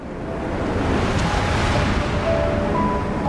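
Ocean waves surging around a boat at sea, a continuous full-bodied wash of water that swells in over the first half-second and stays steady, with no voices.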